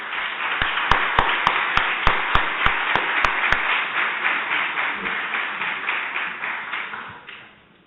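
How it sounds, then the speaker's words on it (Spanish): A conference audience breaks into steady applause, with a few sharp individual claps standing out at first, then a dense ongoing patter that fades away at the end. "les pido que le demos un aplauso de bienvenida y de inicio a la conferencia"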